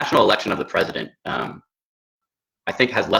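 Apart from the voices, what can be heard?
No everyday noise stands out behind the speech.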